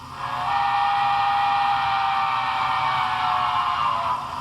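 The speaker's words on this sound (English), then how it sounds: "So those are the two whistles that you can toggle back and forth from on this locomotive." A steady, loud steam whistle tone from a Broadway Limited USRA Heavy Mikado 2-8-2 model locomotive with Paragon 3 sound, the second of its two whistles, held for about four seconds and then trailing off.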